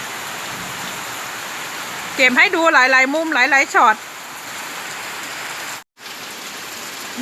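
Steady rain falls in a hillside village in the Thai mountains, a dense even hiss close by that continues throughout while someone talks briefly over it.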